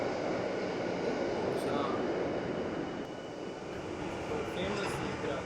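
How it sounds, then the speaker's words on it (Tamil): Steady rumbling roar of a train in motion, continuous and droning, with a faint voice-like murmur in the background. "கட்டுப்பாடற்ற ரயில்."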